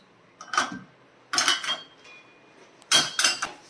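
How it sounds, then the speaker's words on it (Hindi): Small bowls are set into the rack of an IFB dishwasher, making three separate bursts of ceramic clinks and clatter with quiet gaps between. "इसके ऊपर भी हम अपनी छोटी कटोरियों को अरेंज करेंगे।"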